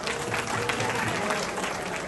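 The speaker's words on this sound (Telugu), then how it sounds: "మీరు ఓకే అయితే చప్పట్లు కొట్టి ఒక చిన్న ఆశీర్వదించండి" An audience at a committee members' meeting of Telangana movement activists claps steadily in approval, a dense, even wash of applause lasting about two seconds with no pauses.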